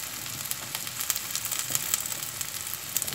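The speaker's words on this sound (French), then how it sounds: "laissez-les blondir dans la poêle" Chopped onions browning in a frying pan make a steady, even sizzle with light crackles, close and moderately loud, with no voices.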